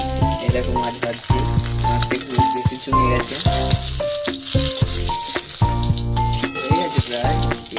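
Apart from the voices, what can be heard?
fish frying in a pan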